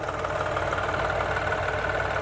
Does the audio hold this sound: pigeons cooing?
no